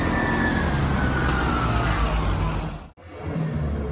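A loud bus engine roars steadily at close range in Mexico, with a broad rumbling drone that runs almost unbroken. It cuts out for a split second near the end, then carries on.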